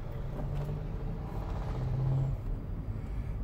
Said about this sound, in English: this is your virtual test drive of the 8th Gen Civic